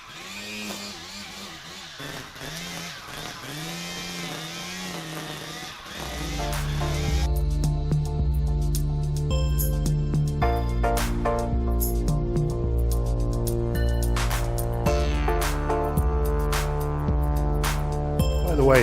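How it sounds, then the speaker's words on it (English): A Ryobi Trimmer Plus weed trimmer edges a lawn, its motor starting after a quieter opening and then running steadily and fairly loud with a buzzing drone for the rest of the clip. "actually go around with my weed trimmer and just edge it out"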